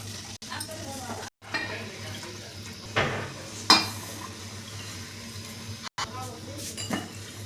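Dishes, pots and utensils are washed by hand at home, with occasional clinks and clatters of metal over a low, steady background hum and a few brief bursts of running water.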